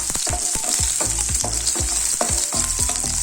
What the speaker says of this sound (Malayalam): ഈ ചെറിയ ഉള്ളി നന്നായിട്ടൊന്ന് വഴന്നിട്ട് കളർ ഒന്ന് മാറി വന്നോട്ടെ